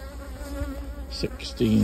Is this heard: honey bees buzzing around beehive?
yes